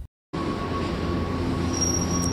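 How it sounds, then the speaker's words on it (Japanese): A train pulls into a station platform on a sharp curve, with steady loud rolling rumble and a thin high wheel squeal, after a brief moment of silence. "列車が停車し、しばらくすると"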